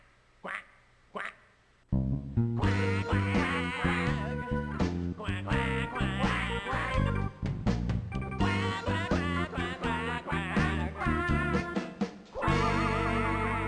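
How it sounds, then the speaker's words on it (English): In the 1995 Dr. Seuss' ABC cartoon, a quartet of cartoon quackaroos quacks out a bluesy tune, loud layered rhythmic quacks over music, after a few soft quacks at the start. "A quartet of quackaroos quack out the quacker blues."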